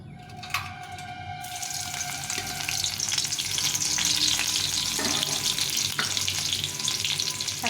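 Chopped garlic sizzles in hot oil in a wok for fried rice, a steady crackling fry that swells after a sharp drop-in and runs continuously, close and fairly loud, with some clatter of utensils.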